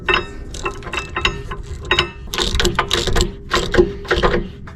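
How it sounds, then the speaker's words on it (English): A ratchet clicks rapidly in repeated bursts while tightening the rear brake caliper carrier mounting bolts on a 1999 BMW Z3, the close metallic pawl ticking loud and crisp. "Tightened to 67 Newton meters."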